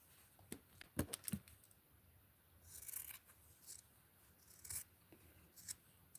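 Scissors snip through thread at a sewing table beside a serger, a few quiet crisp cuts and light rustling close by, with no talking.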